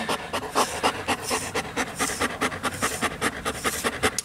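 A long-haired German Shepherd dog pants rapidly and rhythmically up close, a steady series of quick breathy huffs filling the whole stretch without other sounds.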